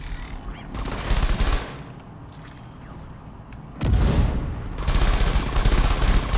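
Bursts of rapid gunfire from a glass cannon weapon in a drone video game, loud and close, separated by a quieter stretch before heavy shooting resumes.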